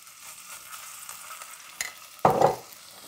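A sudden loud sizzle bursts up as lard pâté hits a hot frying pan, then settles into a softer frying crackle.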